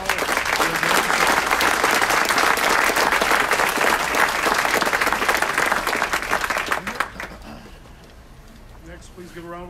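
Loud sustained applause from an audience at a city council meeting, dense clapping that holds for about seven seconds before quickly dying away into quiet room noise.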